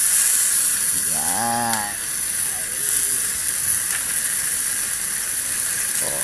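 Soy sauce and vinegar hit a hot pan of chicken adobo, a loud close broad hiss that holds steady and then eases, with a brief spoken word over it.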